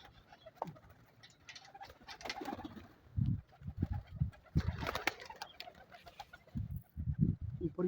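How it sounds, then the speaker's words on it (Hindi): Pigeons gathering near a bird-catching net as grain is scattered for them, with soft cooing and rhythmic wing flutters and patters, moderately close, growing busier toward the end. "तो कबूतरों को देते हैं पहले दाना, ताकि ये दाने को देख के नीचे उतर आए जी"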